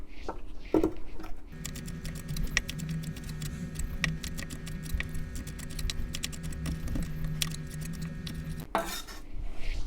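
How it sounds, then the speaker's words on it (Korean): A knife chops thin shreds of cabbage on a cutting board in quick, even taps that continue for several seconds over quiet tonal background music, with a few sharper knocks at the start and end. "안쪽을 위로 오게 해서 썰어야 미끄러지지 않고 쉽게 썰 수 있어요."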